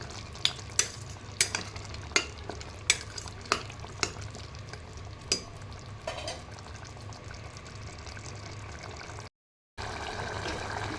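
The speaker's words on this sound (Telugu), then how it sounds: "మళ్ళీ ఒకసారి కలిపేద్దాం" Mutton and raw mango curry stirred in a pan, a series of sharp spoon clinks and scrapes over a low simmering sizzle, close, then a brief gap of silence before the bubbling resumes.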